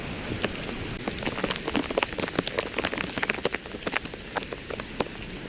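Steady rain patters on a surface nearby at a cave temple, a dense spray of small drops with occasional sharper taps, fairly soft overall and with no voices.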